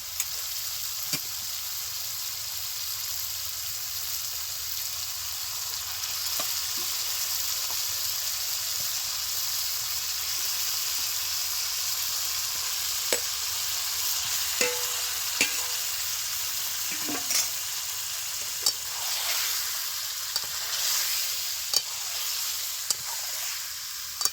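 Chicken meat goes into a spiced masala for a Bengali-style chicken curry with winter vegetables, frying in a steady, close sizzling hiss for a long stretch, with occasional faint clinks of stirring.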